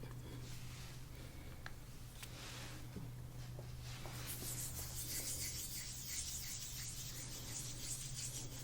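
Slick hands rubbing massage oil over a face during a shiatsu face treatment, producing soft, close, continuous skin-sliding swishes and rasps over a steady low hum.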